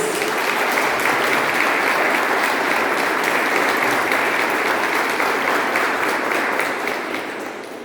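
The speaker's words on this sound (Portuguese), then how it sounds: "Vamos aplaudir a palavra de Deus." A church congregation claps together after a Gospel reading, a loud, dense, sustained round of applause that tapers off toward the end.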